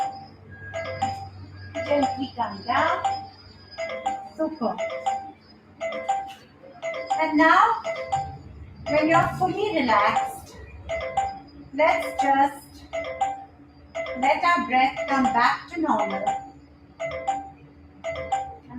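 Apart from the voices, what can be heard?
telephone ringing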